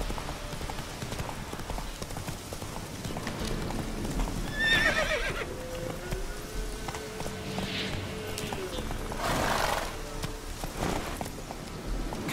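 A horse in The Witcher 3 clip-clops at a steady pace and lets out a clear whinny partway through, hooves close and rhythmic over ambient game sounds.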